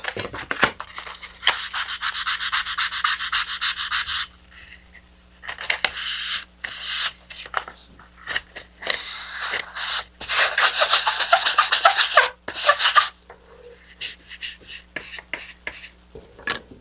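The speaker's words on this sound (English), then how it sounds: "And then on this one, I also want to sand those little tabs off." Sandpaper rubbing small tabs off a Draco BG model rocket, a close, steady scratchy scraping in several bursts separated by short pauses, with no talking.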